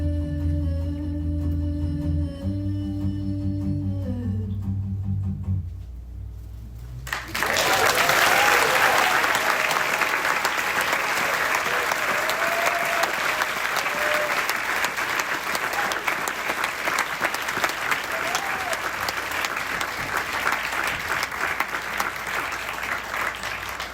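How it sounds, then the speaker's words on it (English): A theater audience at Largo in Los Angeles bursts into loud, sustained applause after a musical passage winds down, clapping steadily and densely for over fifteen seconds. "Thank you for your applause"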